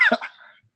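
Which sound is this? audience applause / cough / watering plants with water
cough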